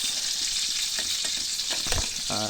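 Shrimp frying in a pan, a loud steady hiss and sizzle of hot oil filling the whole clip up close, with faint clatter from stirring underneath.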